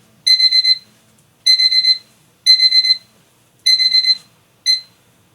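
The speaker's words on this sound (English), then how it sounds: "My alarm for my medicine goes off at 10 a.m." A phone alarm set as a medicine reminder goes off alone, sounding loud, close beeping bursts of rapid electronic tones, each burst about half a second long and repeating roughly once a second.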